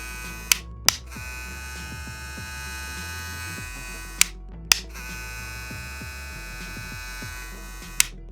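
A Kemei hair clipper runs steadily with a constant electric buzz and hum, broken by a few sharp clicks near the start and end.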